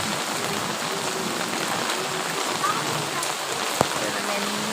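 Heavy rain pours down outdoors in a steady dense hiss of drops hitting surfaces, even and unbroken throughout, with one brief sharp tap near the end.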